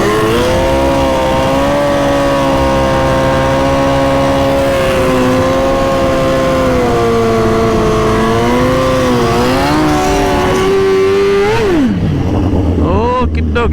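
A grudge drag-racing motorcycle on a drag strip fires up and idles with a loud, steady engine note, then revs higher before the pitch drops sharply as the throttle is released, with quiet talk faintly underneath.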